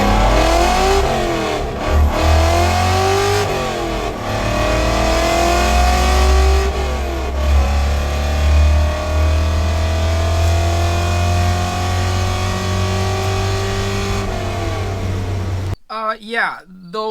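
An LS-swapped Datsun roars through a drag run, its engine held loud and close as the pitch climbs steadily through repeated pulls, then cuts off abruptly at the end.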